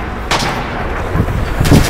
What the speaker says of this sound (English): There's some fucker on a machine gun on the left.